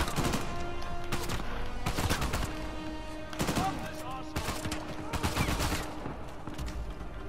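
Gunfire from the video game Uncharted, with repeated bursts of sharp shots in uneven clusters over a steady battle ambience, loud and close throughout.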